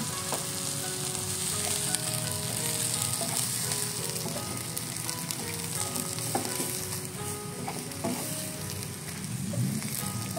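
Mustard greens (sawi) stir-frying in a wok with a splash of water, a steady loud sizzle with scattered scraping and stirring knocks throughout, no voices.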